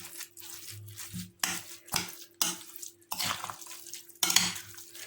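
A spoon scrapes and clinks through a herby parsley-and-mint filling for stuffed pepper dolma, several separate stirring strokes against a bowl with short pauses between them, close and fairly loud, with no talking.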